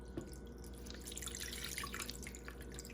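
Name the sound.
cup of water poured into meat sauce for lasagna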